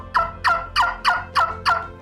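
A trumpet-style turkey hunting call imitates a gobble: six rapid, loud rattling gobbles in an even rhythm, close and alone with no talk.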